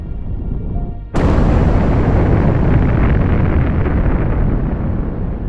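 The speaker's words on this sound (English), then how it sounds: "Once upon a time, there was the Big Bang." A huge Big Bang explosion erupts suddenly after a quiet lead-in, a loud broadband roaring boom that holds and slowly fades over several seconds with no speech.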